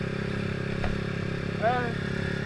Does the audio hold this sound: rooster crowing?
no